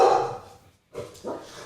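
A dog barks close by: one loud bark, a short silence, then two quicker barks.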